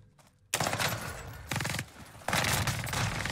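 A PPSh submachine gun fires in the Warzone video game on Rebirth Island, with a quiet lead-in and then three loud, rapid, rattling bursts in quick succession and no talk over them.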